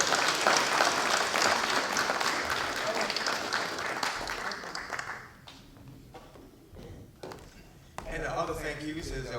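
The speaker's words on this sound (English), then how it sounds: "Let's give a round of applause." A crowd at a community talk gives a round of applause, loud and dense at first then thinning out to scattered claps, followed by a voice speaking.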